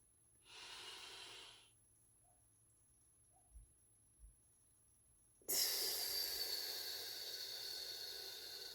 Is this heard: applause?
no